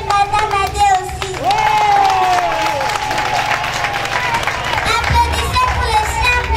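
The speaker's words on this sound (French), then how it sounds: "Si vous êtes là, applaudissez pour monsieur et madame Adéossi." A crowd applauds and cheers at a political rally for a couple, dense clapping mixed with voices, a sustained tone and music, all loud and continuous.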